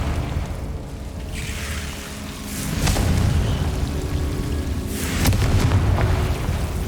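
Two fiery Confringo spell blasts from Hogwarts Legacy, each a whooshing boom with a sharp crack, the first at about one second and the second near five seconds, over a constant low ambient rumble.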